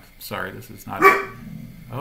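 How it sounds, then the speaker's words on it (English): A dog barks indoors in the background, a few short sharp barks that overlap a person talking nearby. "And you may hear my dog bark in the background."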